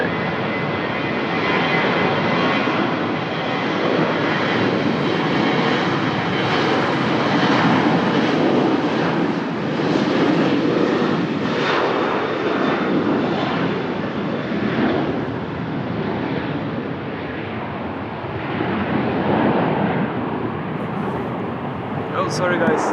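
Jet engines of an Iberojet airliner at Lisbon Airport produce a sustained, fairly loud roar that swells and fades gently over time, with a voice speaking over the engine noise.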